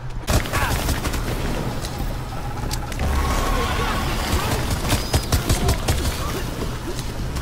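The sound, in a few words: gunfire in video game Rainbow Six Extraction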